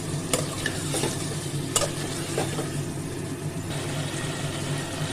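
Spice paste of ginger, garlic, onion, turmeric, cumin and red chili with sour yogurt fries in oil for egg curry, a steady close sizzle broken by a few scraping stirs of a spoon.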